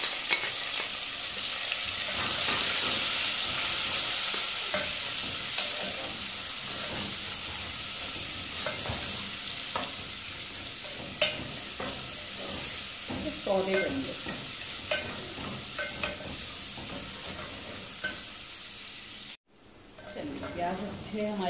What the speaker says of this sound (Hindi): और अब ये प्याज डाल के इसको अच्छा करेंगे।